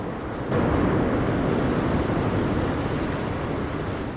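A broad, continuous roar of surf swells in after a brief quieter start and holds loud and steady, with a windy rushing texture.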